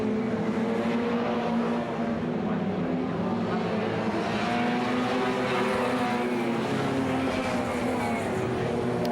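Stock cars racing around a track during a race, a dense continuous roar of several engines at a distance, steady and loud throughout with no break.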